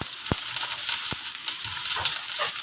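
Sliced onion dropped into hot oil with ginger slices in a pan gives a loud, continuous sizzle and crackle close by, with a couple of sharp knocks from a utensil and no talking.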